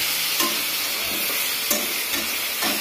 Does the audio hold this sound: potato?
yes